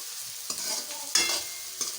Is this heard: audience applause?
no